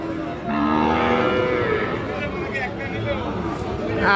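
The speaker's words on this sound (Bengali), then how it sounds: "সামনে দেখতেছেন যে স্মার্ট কোয়ালিটির বেশ কিছু শাহিওয়াল জাতের সার বাছুর গরু" Sahiwal breed calves at a livestock market moo loudly and close, one long drawn-out low call followed by further bellows, over a busy background of crowd chatter and someone talking.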